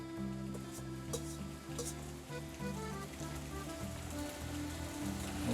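Soft sizzle and patter as celery, carrots and cherry tomatoes are added to a lamb marinade in a pan, faint and steady beneath louder background music, with no voices.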